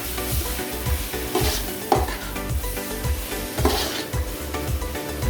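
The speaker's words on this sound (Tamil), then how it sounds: "அதுக்குதான் எண்ணெய் பிரிஞ்சு வர வரைக்கும் வதக்கிறது." Tomatoes sautéing in oil in a pan for Tamil prawn curry, with a steady sizzle under rhythmic stirring scrapes and soft pot knocks repeating every half second or so, near and fairly loud.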